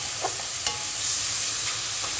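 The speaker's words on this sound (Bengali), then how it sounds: "দেখো আমার মশলা কষানো হচ্ছে।" Spice paste of turmeric, chili, coriander, ginger, garlic and onion fries in a pan for rohu fish curry, a close, steady sizzle broken by a few scraping stirs.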